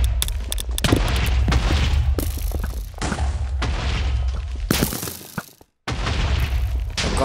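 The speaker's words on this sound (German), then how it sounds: "Granate!" A grenade in a Minecraft battle bursts with a heavy boom, followed by a run of loud crashing, cracking blasts and rumble that briefly cuts out to silence near the end before resuming.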